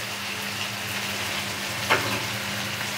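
Shrimp, potato and pointed gourd sizzle and fry together in a pan, a steady even crackle throughout with one brief louder clink or stir partway through, no voices.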